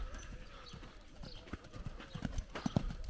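Horse hooves clip-clop faintly in an uneven rhythm on a riding ground, with a few sharper hoof strikes near the end and light background noise.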